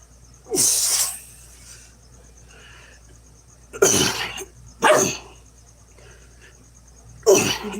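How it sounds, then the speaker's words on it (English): Puppy Oliver barking in a room: four short, sharp yaps spaced irregularly over several seconds, close and fairly loud, with quiet background in between. "Did you just bark at Daddy for doing push-ups?"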